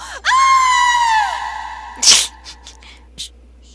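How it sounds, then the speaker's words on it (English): A woman's high, sustained scream rings out as she falls in the game Persona 4 Golden, loud and gliding downward for over a second, followed by a sharp crash and a few faint scattered knocks. "That scream was kind of anticlimactic."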